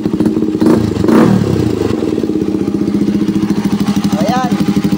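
A KTM Duke 200 motorcycle idles close up through an open exhaust pipe, a loud, rapid, even putter with some clatter, under a person talking at the start.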